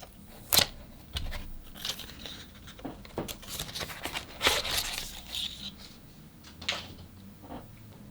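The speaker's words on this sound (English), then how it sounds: "So let's take the paper off." Protective paper is peeled and crinkled off an Oculus Quest 2 head strap in a series of quiet rustles, scratchy tears and a few sharper crackles spread irregularly across several seconds.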